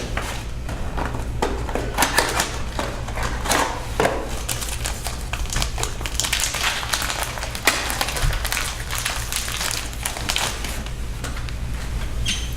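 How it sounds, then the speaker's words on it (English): Ink cartridges are pushed firmly into a Conde Dyetrans 5050N sublimation printer, giving a run of light plastic clicks, creaks and knocks over a steady low machine hum. "And the cartridges slide in firmly."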